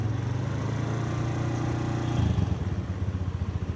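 Suzuki Skydrive scooter engine given a light blip of throttle, a steady mid-pitched hum rising into a brief rev near the end, close and fairly loud with no talking.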